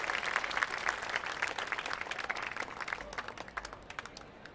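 An audience at a live jazz festival gives a steady wash of applause. Dense clapping holds, then thins out and fades over a few seconds.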